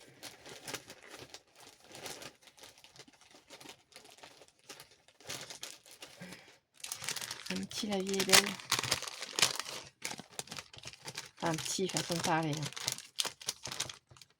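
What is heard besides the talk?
crinkling glittery wallpaper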